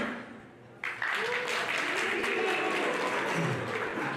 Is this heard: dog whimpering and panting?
no